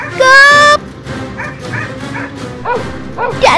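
A dog barks and yips repeatedly in a tense chase scene, loud and close, mixed with shouting voices and a shrill squeal at the start.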